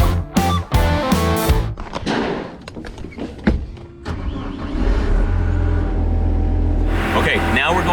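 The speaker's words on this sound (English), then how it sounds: "I'm driving the big Skyjack lift" A big Skyjack lift starts up and drives inside an abandoned mansion under renovation, with loud thumps and knocks giving way to a steady, close mid-pitched engine drone; a voice speaks briefly near the start.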